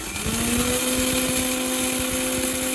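A mixer grinder grinds fenugreek and black cumin seeds, a loud continuous whirring motor drone with a gritty rattle from the seeds, running steadily throughout with no talking.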